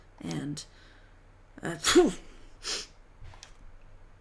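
A single sneeze bursts out loud and close during a let's-play recording, with short bits of talk before and after it.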